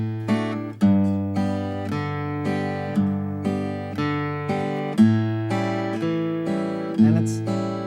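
An acoustic guitar picks bass notes with chords in a steady rhythm, each plucked attack ringing out clearly and alone at a moderate, even pace.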